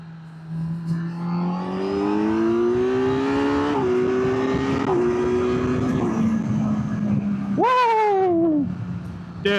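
Kawasaki Z900 SE motorcycle, 2025 model, riding with its engine note rising and falling through several gear shifts, then a sharp rev surge near the end, loud and steady throughout with no talking.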